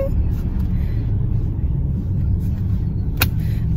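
A car drives along the road in a steady, loud low rumble heard from inside the vehicle. The road noise holds even throughout, with a brief sharp tick near the end.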